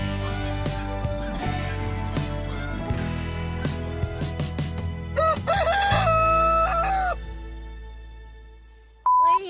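Chickens in a garden crow loudly and cluck, with layered calls near and far that continue over steady outdoor background.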